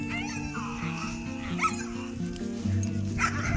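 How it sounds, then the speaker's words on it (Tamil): A female Kattaikaal dog barks and whimpers close by in a home setting, with short yips over steady background noise and a person talking at the same time. "நம்ம வீட்டுக்கு புதுசாக இந்த கட்டைக்கால் பெண்ணாய் வந்திருக்காங்க."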